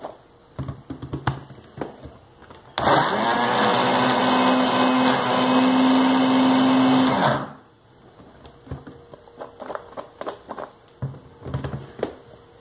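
A blender whirs through homemade natural seasoning made with vinegar, a loud steady motor roar that starts abruptly, runs for about four and a half seconds and cuts off, with quieter clatter before and after.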